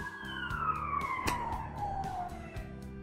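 A fire engine siren passes outside, one long wailing tone sliding steadily downward in pitch as it goes by, fairly loud and continuous over a faint rhythmic background.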